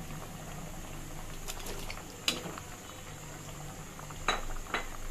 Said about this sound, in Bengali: বলক চলে এসেছে